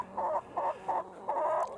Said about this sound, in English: We have chickens for eggs. These are all hens.